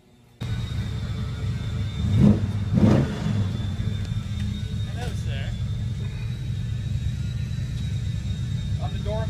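A 1973 Ford Mustang Mach 1 rumbles steadily nearby, its engine swelling in two brief revs early on before settling into a continuous low drone as the car pulls away.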